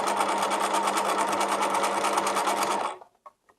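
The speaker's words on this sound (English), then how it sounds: "Then we're going to continue sewing." A sewing machine stitches fabric in a fast, steady, loud buzzing run for about three seconds, then stops, followed by a few faint clicks.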